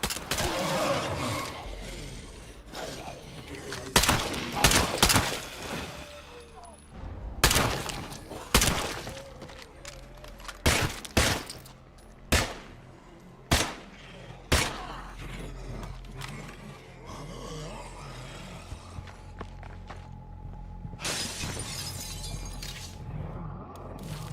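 Gunfire against zombies in State of Decay 2, a string of sharp, loud gunshots spaced a second or two apart with crashing impacts between them, over game ambience and occasional voices.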